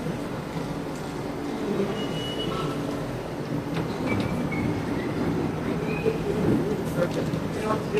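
A metro train rumbles through an Istanbul station, a steady rolling roar with wheel clatter and faint metallic squeals, and voices talk in the background.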